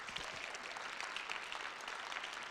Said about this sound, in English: So give Will a round of applause.